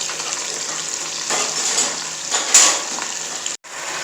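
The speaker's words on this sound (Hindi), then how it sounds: "क्योंकि ऑयल हमारा पहले गर्म है। अब इसमें हम प्याज ऐड करेंगे।" Onion paste made from four medium onions fries in hot oil for a fish curry, producing a loud, close, crackling sizzle with a few stirring swells, cut by a brief drop near the end, with no speech.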